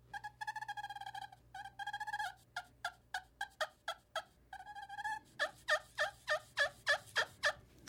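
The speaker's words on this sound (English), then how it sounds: "So that is the Purr plate from Limb Walker Game Calls." Limb Walker Purr plate turkey call worked with a soft cedar striker, giving mellow, moderately pitched purrs, then a steady run of about a dozen clucks and yelps in a close, clear rhythm.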